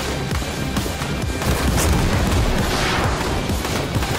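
Dense, continuous barrage of gunfire and booming explosions in the Army Men plastic toy soldier war game, with a muddy battlefield and tanks, rolling loudly with no pauses.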